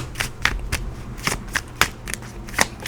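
A deck of tarot cards is shuffled in a series of sharp riffling bursts, about eight quick rhythmic flutters spaced across the moment, close and fairly loud, with no talking.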